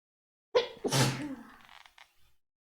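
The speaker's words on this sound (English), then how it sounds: "I have to sneeze, I think." A single sharp sneeze close by, with a quick intake of breath and an explosive burst that trails off into faint breathy sounds.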